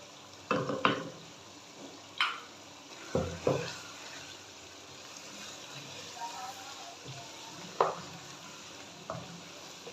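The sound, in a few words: spices added to frying chicken handi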